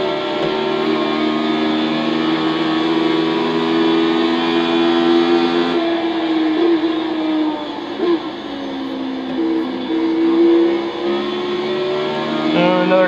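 Radical SR8 race car competing at Oulton Park circuit, its engine droning loud and steady throughout with shifting pitch as it accelerates and lifts, other engine noise blending in, no talk.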